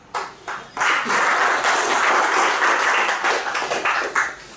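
Audience clapping at a Toastmasters club meeting after a speech, starting with a few scattered claps and then swelling into steady applause that tapers toward the end.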